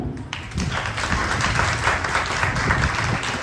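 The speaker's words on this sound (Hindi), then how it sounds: "ये बच्चों के लिए जोरदार तालियां" Enthusiastic applause from a small group fills the room, steady and continuous clapping throughout with a few cheers mixed in.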